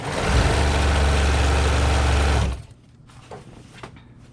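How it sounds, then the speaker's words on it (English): A sewing machine runs steadily as it stitches a tote bag, a dense loud whir for a couple of seconds before stopping abruptly, leaving faint quiet handling noises. "while I'm sewing this"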